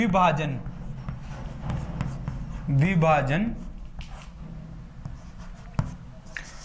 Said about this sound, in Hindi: अब हम सीधे फॉर्मूला लिखते हैं